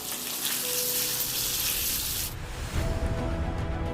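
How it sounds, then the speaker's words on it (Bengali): Paneer cubes frying in two tablespoons of hot white oil in a wok give a loud, steady sizzle that shifts after about two seconds to a lower, rougher crackle with no voices. "একটি কড়াইতে 2 টেবিল চামচ সাদা তেল গরম করে পনিরের কিউবগুলো হালকা লাল করে ভেজে নেব"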